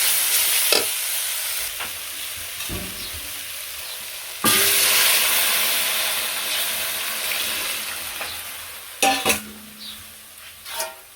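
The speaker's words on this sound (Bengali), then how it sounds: "এই যে শাকগুলো এখন ভাজা হয়ে গেছে গা" Leafy greens stir-fried in a pan in a simple village kitchen, giving a steady close sizzling hiss broken by a few sharp scrapes and clanks of stirring.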